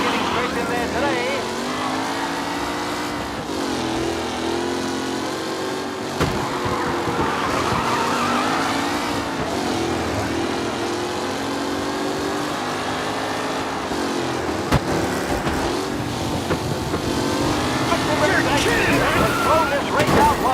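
Race cars roaring around the Lost Heaven Circuit in the Mafia game, engines droning continuously with tire squeals and skids, while a commentator talks over the racing throughout.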